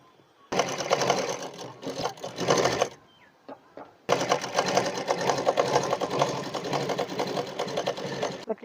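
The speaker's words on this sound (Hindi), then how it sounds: "कपड़ा को पलटकर इस तरह से बारीकी से सिलाई करना है।" A sewing machine stitching a suit, running in a rapid close-up burst of stitching, pausing briefly, then starting again in a longer, steady run.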